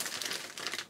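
A plastic bag full of Lego pieces crinkles steadily and close up for just under a second, making a dense, crackling rustle with no speech.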